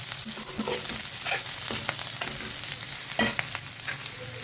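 Onion fries in a pan to a reddish brown, a close crackling sizzle with scattered stirring scrapes and clicks, no speech.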